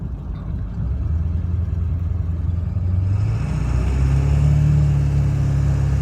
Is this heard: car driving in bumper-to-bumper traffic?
yes